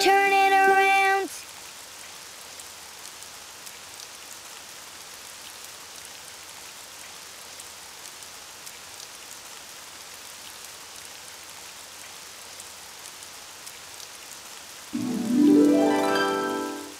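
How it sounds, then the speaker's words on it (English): Steady rain patters softly throughout, a constant hiss, with short bursts of tonal music at the start and end. "it's raining outside"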